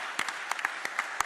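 Sparse, faint clapping from an audience at a CAF election, a handful of separate claps scattered across a brief moment.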